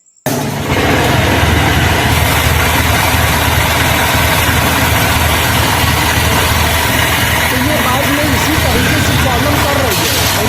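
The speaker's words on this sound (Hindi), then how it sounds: "मैं सबसे पहले इस बाइक को सेल्फ में स्टार्ट करके प्रॉब्लम दिखा देता हूँ।" A Honda SP 125 BS6 motorcycle with a high-RPM fault starts on its self-starter, then runs close by with a loud, steady, unbroken engine roar.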